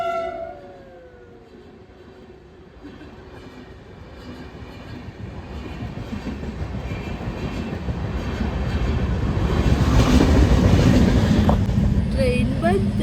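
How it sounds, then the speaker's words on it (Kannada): A train rumbles through a railway crossing, growing louder with a rising rush of wheels and clatter, and a horn sounds early on. "ಟ್ರೈನ್ ಬಂತು"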